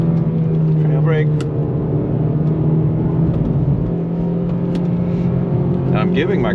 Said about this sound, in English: I'm giving my car just a little bit of throttle through those corners to give me grip.